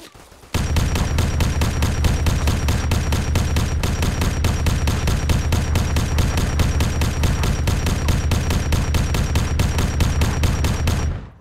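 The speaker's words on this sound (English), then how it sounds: "What the hell are you shooting at?" A steady, rapid automatic weapon from the Arma 3 Warhammer 40K mod fires continuously for about eleven seconds, loud and close, each shot evenly spaced in an unbroken rhythm.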